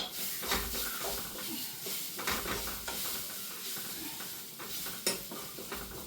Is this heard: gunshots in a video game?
no